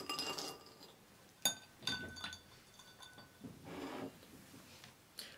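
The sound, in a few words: ice cubes dropped into glass of cold water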